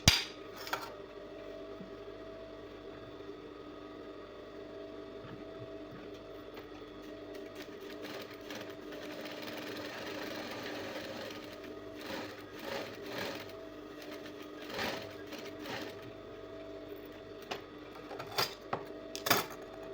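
Sewing machine running a gather stitch on a ball dress, a fast steady mechanical whir with rhythmic needle clatter and occasional clicks and knocks as the fabric is handled, fairly quiet and close, with no talking.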